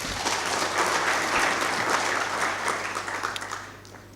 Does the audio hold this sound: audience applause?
yes